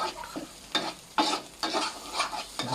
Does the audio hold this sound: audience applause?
no